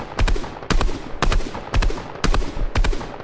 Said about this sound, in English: Is that him or am I just shooting nothing?